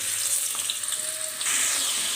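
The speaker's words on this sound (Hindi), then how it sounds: "ऑयल जो है गरम हो चुका है तो अनियन ऐड कर देते हैं। अनियन को करेंगे सौते।" Onions sautéing in a tablespoon of hot oil while making chicken shorba at home: a steady, soft crackling sizzle with light stirring scrapes, no voices.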